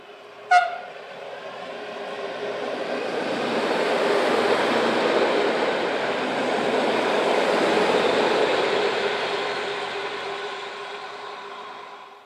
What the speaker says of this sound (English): In the opposite direction, we see a northbound service for Edollo, led by unit number 668142.